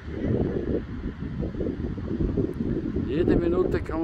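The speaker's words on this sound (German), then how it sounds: "viel Wind" Strong wind blows at a beach campsite near Barcelona, a steady loud roar and buffeting across the whole stretch, with a faint higher whine rising near the end.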